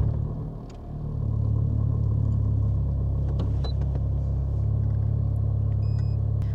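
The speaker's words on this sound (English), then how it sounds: "And then I'll start the car." A Honda car engine cranks over, catches and settles into a steady close low idle rumble with a constant hum.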